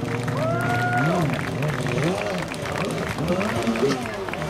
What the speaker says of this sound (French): applaudissez-le, je vous entends. Bravo